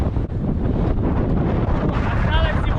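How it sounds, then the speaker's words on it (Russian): Strong wind buffets a microphone outdoors on a cycling trip through France, a loud continuous roar with gusty swells and a brief dip, and a faint voice underneath. "сильный ветер"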